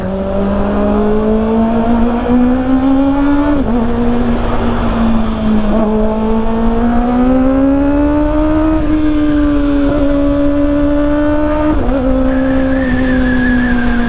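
A 2024 Kawasaki ZX6R fitted with a new exhaust idles and revs steadily, a loud, close engine drone rising and falling in pitch over several gentle throttle blips, with no talking.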